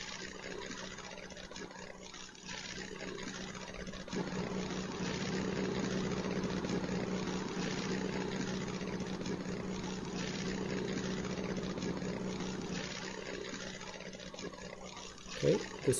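A P-51 Mustang's engine drones steadily at a moderate, even level in a FlightGear flight-simulator dogfight, with a faint voice briefly over it and a couple of sharp clicks near the end.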